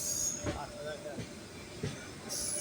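A train running on railway tracks, heard from on board, a rumbling rolling noise with a few louder clanks and squealing wheel sounds.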